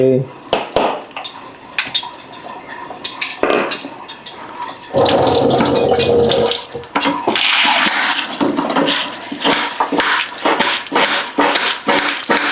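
Hands washed under a running kitchen tap while cooking, a loud steady gush of water lasting a few seconds amid scattered clinks and knocks of kitchenware before and after.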